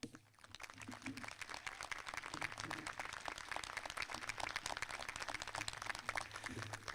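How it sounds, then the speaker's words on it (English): At a high school graduation ceremony, the crowd applauds to recognize teachers. Faint, distant clapping starts after a short pause and holds as an even patter to the end. "Please join me in a round of applause in recognition of these teachers."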